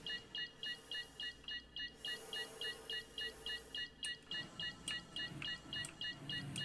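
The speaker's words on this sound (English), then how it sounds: "Sounds like my alarm clock." Rapid, evenly spaced electronic beeps like an alarm clock repeat steadily throughout, clear and fairly close, with faint background noise and occasional soft clicks underneath.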